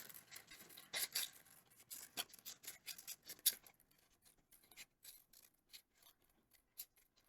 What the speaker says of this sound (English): And then I'm going to take my winter inspired item and bubble cut it.